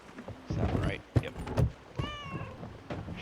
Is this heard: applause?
no